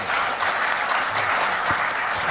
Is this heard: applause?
yes